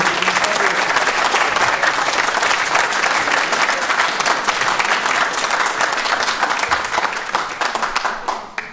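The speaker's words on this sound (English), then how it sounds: "Let's continue that round of applause while they take their seats" A large graduation audience at City of Liverpool College University Centre keeps up continuous clapping, a thick, even wash of many hands that stays loud before thinning out in the final second.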